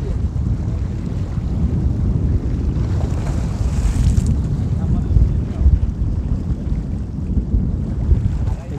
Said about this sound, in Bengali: দেখি কত বড় বড় ঢেউ আর বাতাস।